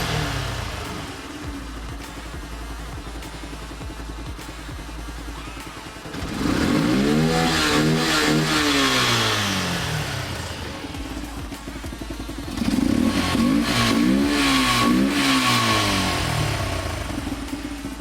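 A Bajaj Pulsar motorcycle with a modified, bassy exhaust idles with a low rumble, then is revved hard twice, each throttle blip swelling into a deep rising-and-falling roar before settling back to idle, close by and with no talking.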